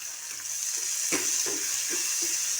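Onion and tomato frying in a pan for a Marathi dried-shrimp (sukat) dish with kokum, a steady broadband sizzle with a few soft stirring scrapes and spoon taps, close and continuous, no talk.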